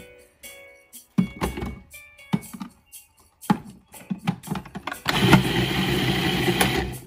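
A blender pulses chopped onion for homemade kimchi, several short whirring bursts with clunks between them, then a steady, louder spin that runs continuously to the end.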